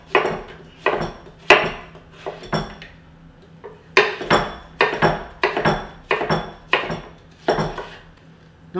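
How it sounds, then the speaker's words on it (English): A knife chops through a cucumber on a board, the crisp clunky strikes landing in an uneven series of about a dozen close, distinct hits with short gaps between them. "I've got a cucumber. Just slice this in half. Now, I want this quite chunky"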